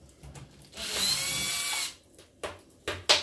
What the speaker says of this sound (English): and the two torque screws at the top there, removing them again.